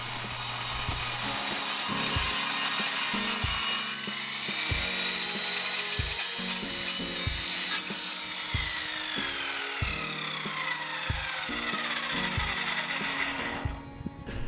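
An Evolution compound mitre saw cuts through a 5x3 timber joist. The motor whines loud and steady at close range for the whole cut, with the blade tone dropping under load, then spins down at the end.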